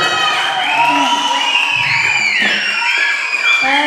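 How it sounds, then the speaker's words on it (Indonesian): A crowd of children at a school Quran memorisation festival final, loudly cheering, shouting and screaming for the blue team, a dense continuous roar of young voices. "Beri aplaus untuk kelompok biru"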